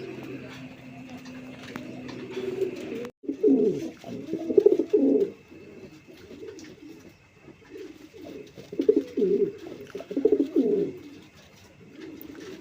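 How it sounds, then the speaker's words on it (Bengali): A pair of large Baghdadi pigeons coos in repeated throaty bursts, close by at a pigeon seller's, over a steady low background hum. "বন্ধুরা এখানে একজোড়া বাগদাদি কবুতর আছে, দেখেন কত বড় সাইজের"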